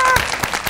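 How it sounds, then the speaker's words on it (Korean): A short burst of clapping rises for the Korea University cheering squad, a few quick claps close by, with a brief tone at the start. "일단 응원 한번 박수 한번 일단."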